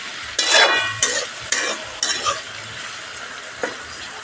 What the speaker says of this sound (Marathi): चांगले म्हणजे तुपात परतू घ्यायचे बटाटे.